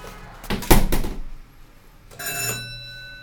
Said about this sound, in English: The alarm bell works.